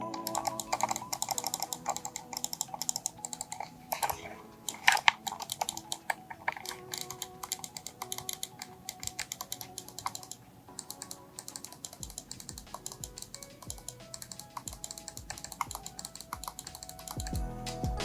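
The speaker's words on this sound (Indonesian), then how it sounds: "Dan untuk yang penasaran dengan bagaimana bunyi dari switch Hafid MS837 ini" Rapid irregular clicking from the switches of a Havit MS837 RGB gaming mouse, close and crisp, in a continuous stream of bursts with short pauses, with no voice over it.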